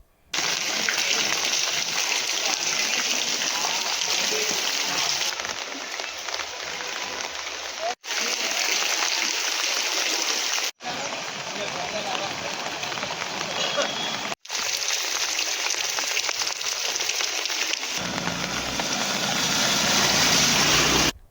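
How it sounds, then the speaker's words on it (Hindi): Heavy rain floodwater rushing through flooded streets of a village in Valia, Bharuch, as a river overflows; a loud, steady gush of water fills the scene with brief cuts, and speech is likely present under it. "यहाँ कई सड़कों पर नदी का पानी इस कदर भर गया कि कई लोग फंस गए"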